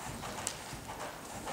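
A horse's hooves in a counter canter, soft rhythmic three-beat thuds on a riding surface, steady and moderately distant under a faint background hiss.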